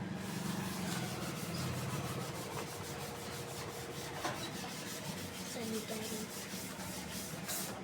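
Writing is rubbed off a classroom board with steady, scratchy strokes that continue for several seconds without pause, fairly close and moderately loud, with no talk over them.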